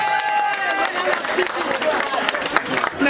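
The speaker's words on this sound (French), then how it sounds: "On applaudit pour Yajane." Guests at a 60th birthday party applaud in a dense burst of clapping, with voices and cheering mixed into the crowd noise throughout.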